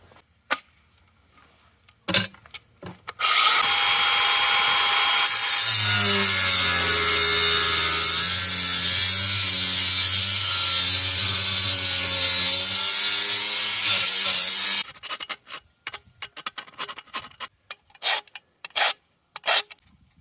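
Metal tubing is cut with a hacksaw, a continuous harsh, ringing rasp lasting about twelve seconds, followed by scattered clicks and clatter.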